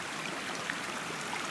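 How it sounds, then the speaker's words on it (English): A small creek flows at the low point of a canyon hiking loop in Cloudland Canyon, giving a soft, steady trickling and babbling of water close by. "here's a lovely little creek, river as it were, creek,"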